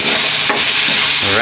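Onions for pancit frying and being stirred in a pan, giving a steady loud sizzle with a brief scrape of the utensil partway through, no voices.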